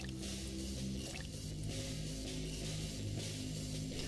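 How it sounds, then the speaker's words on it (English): Blood drips in a horror video game, heard as soft, wet drip and squish sounds repeating under a droning, tonal musical backdrop at moderate, steady loudness. "the little drip drops sounds that they're making with the blood"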